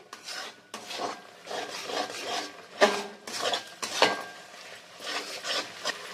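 Spices are sautéed with ginger paste in a pan, heard as repeated rasping scrapes of a spatula against the pan surface in irregular strokes, close and moderately loud.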